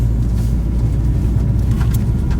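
A flash-tuned Honda Civic Type R FD2R accelerates, its engine giving a steady, loud, low rumble heard from inside the cabin.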